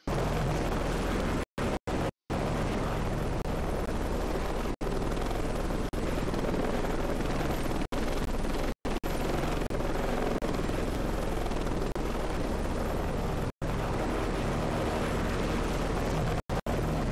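Helicopter rotor and engine noise from the combat flight game Heliborne, a loud, steady, broadband drone throughout with a few sharp cuts of silence.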